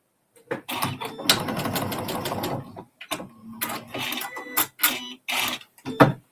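A domestic sewing machine stitches cotton fabric in a sustained run of about two seconds, followed by several short stop-start bursts and clicks of the mechanism, fairly close and clear.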